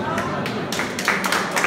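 An audience claps at a singer's live concert, a dense, steady wash of many hands with a voice talking over it throughout.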